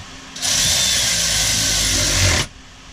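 A power torque tool tightens a bolt on a Tesla Model 3 during a pyro fuse replacement: one loud, steady motorised whir starts sharply, holds for about two seconds and then cuts off abruptly, close up.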